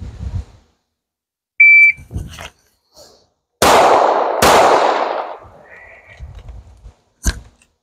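Pistol double taps ring out at a shooting range, two sharp loud gunshots in quick succession with ringing decay, separated by short pauses and faint electronic beeps from a shot timer.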